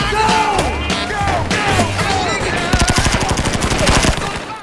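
A film battle-scene ambush erupts in loud gunfire, with whooshing sweeps and scattered shots giving way to rapid, sustained machine-gun bursts at close range.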